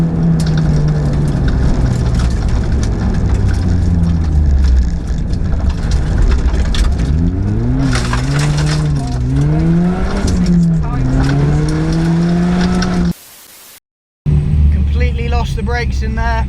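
A Mini R53 Cooper S rally car brakes hard on a Rally North Wales stage, engine note swooping down and up in pitch with tire scrub and gravel noise, loud and close, before a brief cutout and engine resuming.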